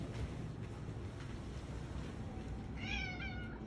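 A cat lets out a short, wavering meow near the end, faint and close, over a steady low rumble of background noise.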